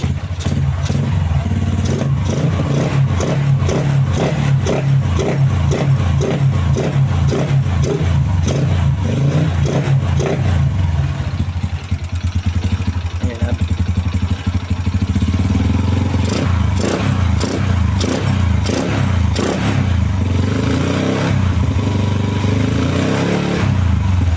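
Engine revving hard and repeatedly as the throttle is blipped during an air-fuel ratio gauge test, loud and close, with a rapid rhythmic pulsing series of revs followed by a smoother stretch and more throttle bursts.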